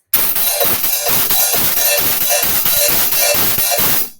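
Steady hi-hat strikes with a sizzle that swells and tightens in a regular pattern as the cymbals open and close, loud and close.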